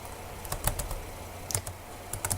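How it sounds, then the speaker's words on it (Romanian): A computer keyboard is hammered rapidly during a game, with bursts of close, sharp key clicks and clacks in uneven rapid clusters over a faint steady hum. "Nu știu ce apăs ca nebunul pe tastatură"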